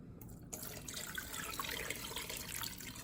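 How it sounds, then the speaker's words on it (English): Water pours into a cooking pot holding chicken and garlic, starting after a brief pause as a steady, fairly quiet splashing rush that continues to the end. "So now I'm gonna add water into the pot."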